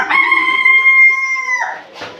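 A rooster among backyard native and hybrid chickens crows one loud, close, drawn-out cock-a-doodle-doo that holds a steady pitch before trailing off, followed by a brief rustle.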